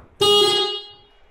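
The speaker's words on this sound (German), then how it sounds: "Und dann hier oben hast du die Hupe." A velomobile horn gives a single short, bright electric honk, loud and close, then fades quickly into silence.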